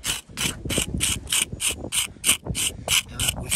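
A pointing tool scrapes back fresh mortar joints on a brick gable wall in quick, regular rasping strokes, about a dozen close, gritty scrapes in steady rhythm with no talking.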